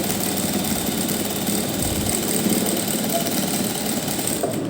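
A sewing machine runs a steady, continuous stitching whir up close while sewing a piped cuff sleeve. The motor drone holds unbroken throughout, with no talk.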